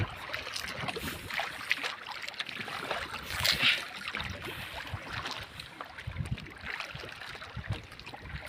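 A small fishing boat moves across water, with steady splashing and sloshing at the hull and bursts of louder wash, heard close up and without talking.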